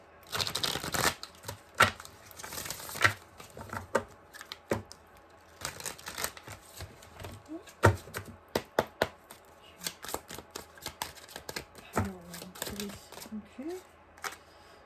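Tarot cards being shuffled by hand in a series of crisp, irregular riffles and flicks, fairly close and loud, with a few soft bumps and handling noises near the end.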